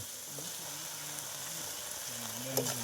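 Onion and tomato fry in a pan with a steady, close hiss of sizzling oil that holds for the whole stretch, while faint voices murmur in the background.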